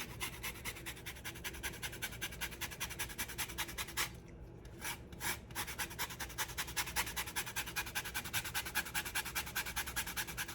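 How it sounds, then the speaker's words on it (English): A lemon zested against a grater for Greek egg lemon soup, giving rapid rhythmic scraping strokes, close and quiet, with a brief pause midway before the rasping resumes. "we're also going to do a lemon zest"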